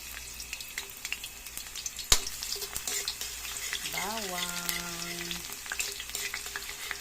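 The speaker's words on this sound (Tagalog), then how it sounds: "Ito na yung aking nainit na mantika. Lagay ko na yung bawang." Garlic hits hot cooking oil in a pan and sizzles steadily and close, with a sharp clank and stirring scrapes over the frying and a brief electronic beep partway through.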